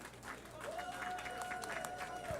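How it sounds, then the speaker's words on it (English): Applause at a city council meeting, a steady wash of many hands clapping at moderate distance, joined by a sustained whistle or cheer tone and scattered crowd noise throughout. "Let's give them a huge round of applause."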